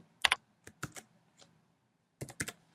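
Keys on a computer keyboard are tapped during Excel work, several quick clusters of sharp clicks separated by short pauses, close and fairly quiet, with no speech.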